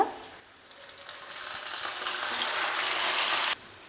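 Marinated chicken hitting a pan of fried garlic, giving a steady, building sizzle that rises and holds loud and close for a few seconds before cutting off abruptly.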